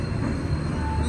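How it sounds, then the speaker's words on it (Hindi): The Goa Express rolls into platform 1 at Madgaon railway station, a steady rumble of rail wheels and carriages with a faint high squeal running through, close and continuous. "5 मिनट की डिले के साथ हमारी गोवा एक्सप्रेस आ चुकी है प्लेटफॉर्म नंबर 1 पे मडगांव रेलवे स्टेशन के"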